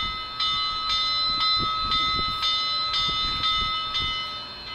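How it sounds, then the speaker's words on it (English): A model Union Pacific Big Boy steam locomotive's bell from an ESU5 sound decoder rings in a steady repeated clang, about one strike per half second, over a low mechanical rumble, close and alone. "Here's the bell."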